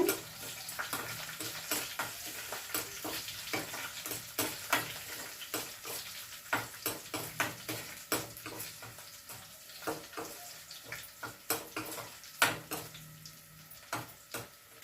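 Ginger pieces frying in hot oil in a home kitchen pan, giving a steady crackling sizzle broken by frequent sharp clinks and scrapes of stirring, with no one talking.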